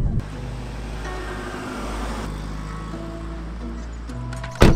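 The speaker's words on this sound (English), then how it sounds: "Do you know what does sound good though? The induction kit." A VW Golf R engine fitted with an induction kit, idling with a deep steady hum and a brief throttle blip, heard close up, ending in a sharp louder burst.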